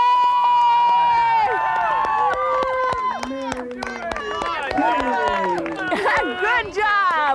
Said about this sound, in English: All those people cheering for you?